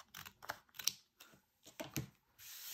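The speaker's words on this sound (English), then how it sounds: "I'm gonna just trim off the edge, what hangs over" Scissors trimming the overhanging paper edge off a handmade journal card, a run of short crisp snips and clicks in uneven bursts with brief pauses between, close and fairly quiet.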